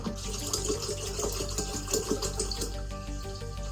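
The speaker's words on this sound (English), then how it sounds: "Now we're gonna top it off with some water" Water runs from a tap into a jug to top up elderberry mead concentrate, a steady close pouring stream with a rising fill tone and faint mechanical hum, no talking.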